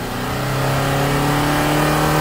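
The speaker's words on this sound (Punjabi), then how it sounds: "ਇਹ ਗੱਡੀ ਦੇ ਮਾਲਕ ਨੇ ਭਾਜੀ ਰੇਸ ਦੇ ਰਹੇ ਆ" A 2009 Swift diesel car, quite old and being checked for black smoke after decarbonisation, revs steadily with its engine note rising, a loud close drone that swells over the whole stretch with no voices.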